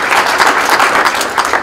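An audience applauds the panelists and moderator at a university energy panel discussion, loud, dense and continuous clapping throughout.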